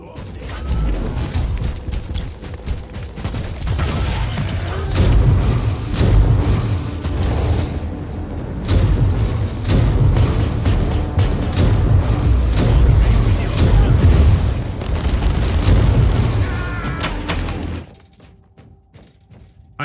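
Grenade blasts and heavy combat in the Warhammer 40K: Inquisitor – Martyr video game aboard a ship, a dense, loud wash of booming explosions and rapid gunfire lasting most of the stretch before cutting to near silence at the end.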